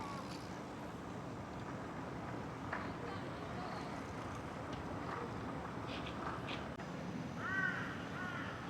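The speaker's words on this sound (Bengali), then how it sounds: "শুনছেন পাখি ডাকতেছে" Crows cawing faintly in the distance across a university campus, a few scattered calls over steady outdoor background hum with passing traffic.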